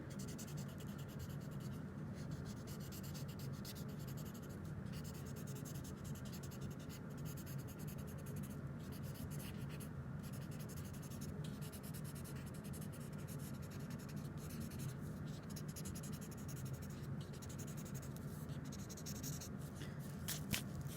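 Pencil shading fur on paper makes a steady, continuous soft scratching and rubbing, close and quiet, lasting throughout without pauses or talk.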